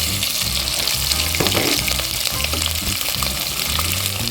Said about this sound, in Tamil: கொஞ்சம் பொரிஞ்சிருச்சு. நீ வெங்காயத்தை சேர்த்துக்கலாம்.